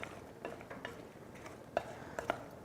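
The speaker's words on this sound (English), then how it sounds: "I am just going to give this another stir" A spoon scrapes and taps inside a pot as a fall comfort food dish is stirred, soft irregular scrapes with a few sharper knocks near the end, close and fairly quiet.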